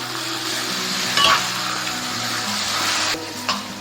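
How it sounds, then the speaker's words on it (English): Fat kway teow noodles stir-fried with sauce for Penang char hor fun, a steady sizzle of the noodles in the pan with occasional soft clinks and scrapes, no voices. "I'm going to stir fry this fat kway teow until it cooks well"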